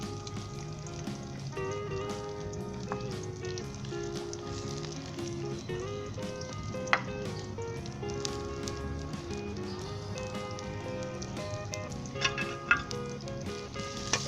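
Onion, ginger and garlic frying in a karahi for chicken liver karahi, a steady close sizzle running throughout with occasional stirring clicks, no talking.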